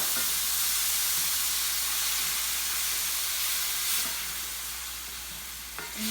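Tomatoes hit a hot pan of sautéed onions and garlic, giving a loud, steady hiss of sizzling and steam that eases slightly toward the end, with a few faint utensil scrapes.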